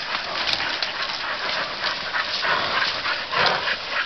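Hunting dogs pant and bark continuously at close range, a dense steady noise of breathing and yips running throughout with no pauses.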